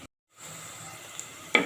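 Onions fry in a pan for a spicy Mangalore-style mackerel curry. After a moment of silence, a soft, steady sizzle rises, and a short stirring clatter comes near the end.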